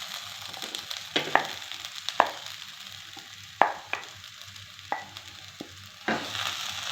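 Mashed chana dal being stirred into a frying coconut masala, a low sizzle under repeated scraping and clacking strokes of a utensil against the pan, close and uneven in rhythm.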